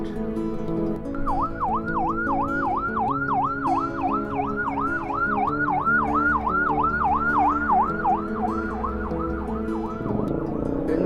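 An ambulance siren on a road wails in a steady, rapidly repeating up-and-down cycle for most of the stretch. It sounds moderately close over the rumble of traffic and the vehicle's own engine.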